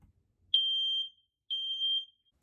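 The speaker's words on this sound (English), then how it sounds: "you can usually just push in a button on the detector and it'll chirp loudly, letting you know that it's working" A smoke detector sounds two loud, piercing high-pitched beeps, each lasting about half a second, when its test button is pressed in a quiet room.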